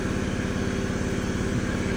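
A rapid, steady mechanical buzzing and rattling of a Harbor Freight Big Chief needle scaler chipping thick rust off flat metal, continuous and loud throughout with no talking.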